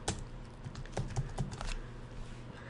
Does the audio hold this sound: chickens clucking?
no